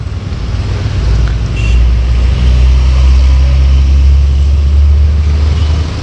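A traffic jam on an Indonesian road sounds as a steady, loud rumble of idling engines and vehicle noise, with a low drone throughout and no clear voices.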